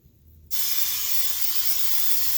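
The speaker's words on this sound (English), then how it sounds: "we're going to spray the top side" After a brief quiet moment, an olive oil mister sprays zucchini slices with a continuous bright hiss, close and steady, for about two seconds.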